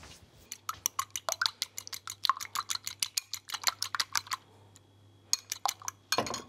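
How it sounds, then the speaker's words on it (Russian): Egg being lightly beaten in a bowl with a fork, a rapid series of sharp clinking taps against the dish, in bursts with a short pause, close and fairly loud with no talking. "Яйцо слегка перемешать."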